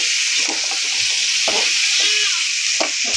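Bottle gourd fries in a hot pan with a loud, continuous sizzle, broken by several scraping stirs of a spatula.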